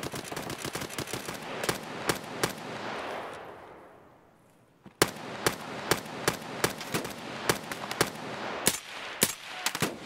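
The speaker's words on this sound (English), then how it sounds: "He's shooting at me." Enemy gunfire in Escape From Tarkov on the Woods map: sharp gunshot cracks in quick irregular bursts, then a brief lull that fades before another burst of shots at close range.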